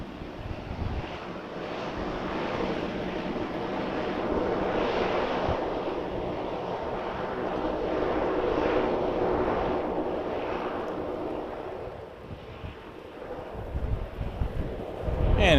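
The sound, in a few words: airplane at Vancouver airport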